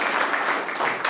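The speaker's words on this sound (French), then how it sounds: "Aujourd'hui, on va les applaudir." An audience claps at a town festival in Trois-Pistoles, with steady, dense applause throughout the brief moment and no speech over it.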